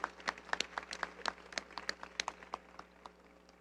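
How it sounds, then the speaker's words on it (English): Audience applause at the Tobago Day Awards 2023 ceremony, a spread of scattered claps that starts fairly full and thins out over a few seconds, moderately distant in a hall. "let's keep the applause going."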